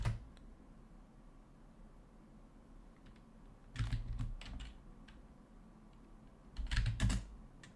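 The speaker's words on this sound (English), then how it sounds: "I always keep typing the wrong thing." Computer keyboard typing in two short bursts of quick clicking keystrokes, separated by a quiet stretch with a few isolated taps, close and clear over a faint background hum.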